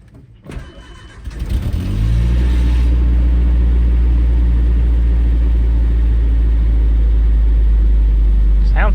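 Repaired boat outboard engine after a spark plug wire replacement, starting up with a rising roar then settling into a steady, loud, even running drone close by, with no speech.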